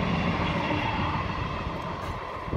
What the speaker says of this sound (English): train going by there, I'll give it a second.